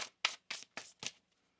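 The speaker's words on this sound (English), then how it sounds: "One more shuffle." Tarot cards are shuffled by hand in four quick, soft riffling bursts spaced about a quarter second apart, close and quiet, followed by near silence.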